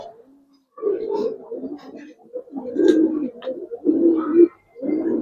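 Silver Giribaz pigeons coo in repeated low, throaty bursts, close and fairly loud, with short pauses between phrases and no one talking.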